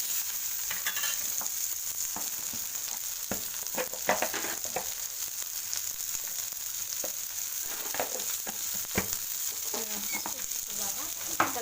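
Onion and tomato masala fries in a pan, giving a steady soft sizzle with scattered crackles and the occasional scrape of stirring, fairly faint and continuous throughout.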